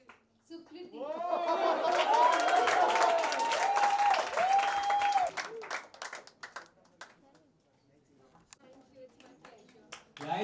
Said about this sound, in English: Big cheer for Bhavi, Ishita, and Sukriti.